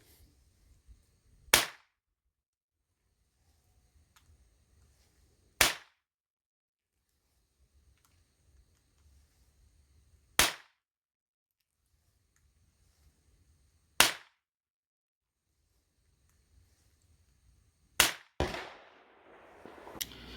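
Derringer Philadelphia .32 rimfire pistol fired outdoors, five sharp, loud reports spaced about four seconds apart with near silence between them, then a burst of rustling handling noise at the end.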